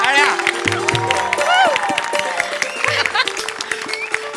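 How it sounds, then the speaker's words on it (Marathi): A studio audience at a Marathi comedy show greets a performer arriving on stage with a steady wash of clapping and scattered cheers, with music and voices layered over it throughout. "जोरदार टाळ्या."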